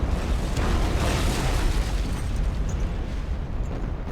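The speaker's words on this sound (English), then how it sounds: "that's the Mi-17 just pounding it with rockets." Mi-17 helicopter pounding a target with rockets in the video game Arma: Cold War Assault, heard as a dense, continuous roar of overlapping explosion blasts holding loud for several seconds.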